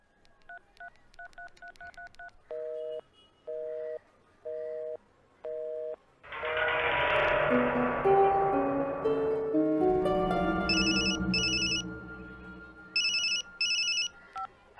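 Touch-tone keypad beeps come in quick bursts, then a phone line rings in repeated double pulses, all clear and close with no talking.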